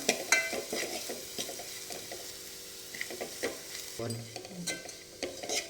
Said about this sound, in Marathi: हे सगळं साहित्य आपण तेलात व्यवस्थित भाजून घेऊया.